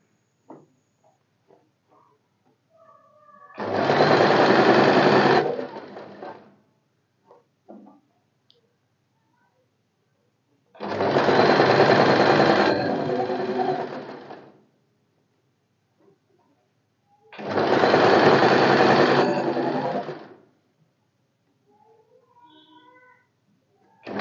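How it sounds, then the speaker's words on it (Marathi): A sewing machine stitches katori blouse fabric in three separate runs of about two seconds each, evenly spaced, with quiet handling noises between the bursts. "व्यवस्थित कापड करून घ्यायचं आणि स्टिच करायचं."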